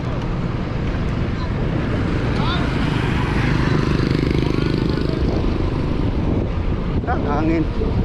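Steady, rushing wind buffets the microphone throughout a motorcycle ride in Davao del Sur, a constant low roar with no voices.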